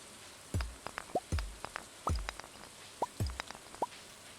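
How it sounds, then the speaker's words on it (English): Rain falls in Stardew Valley as sparse, distinct drops, each a soft plop with a quick rising pitch, landing at irregular intervals against a faint hiss. "I love the sound of rain."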